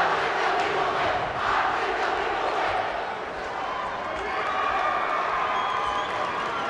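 Loud, sustained roar of Fargo Davies hockey fans cheering in an arena during a high school game against Grand Forks Central, a dense crowd wash holding steady throughout.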